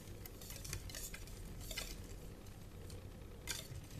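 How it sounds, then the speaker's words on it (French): A whisk stirs melting black soap mixture for homemade shampoo, making quick repeated scrapes and light clinks against the bowl over a soft background. "je prends un fouet et essayer de remuer jusqu'à ce que ça fonde"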